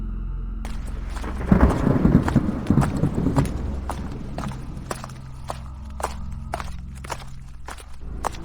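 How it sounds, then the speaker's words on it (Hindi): Low thunder rumbles through a storm on a dark rural path, swelling loud early and then fading under steady rain, while hoof-like clip-clop footsteps tap at a regular pace throughout. "आसमान में और बादल गरजने लगते हैं।"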